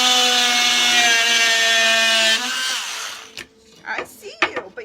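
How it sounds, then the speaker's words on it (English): An oscillating multi-tool cuts straight through wood for corner shelves, giving a loud steady buzzing drone with a strong tonal whine for over two seconds, then dropping in pitch and slowing before stopping, followed by scattered handling knocks and brief talk. "go down through here with my multi-tool, cut this straight"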